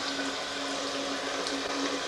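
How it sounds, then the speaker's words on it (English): Hot oil poured at arm's length through a colander into a second frying pan, giving a steady, close hissing wash of liquid that runs unbroken for about two seconds with no talk. "He likes to just pour hot oil through a colander into another frying pan"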